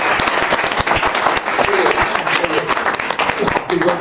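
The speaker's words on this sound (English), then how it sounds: "we'll give Raj a quick round of applause" A room of attendees at a deal-analysis session gives Raj a quick round of applause, with close, uneven clapping from a modest group and voices murmuring underneath.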